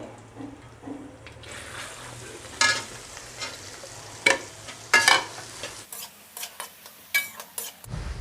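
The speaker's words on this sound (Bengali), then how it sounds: "কারণ এগুলো খুবই হালকা হালকা ভেজে নিচ্ছি। এবার দিয়ে দেবো গাজরগুলো।" Carrots and other vegetables for fried rice fry lightly in a pan, a soft sizzle punctuated by sharp clinks and scrapes of a spatula against the pan, close and uneven.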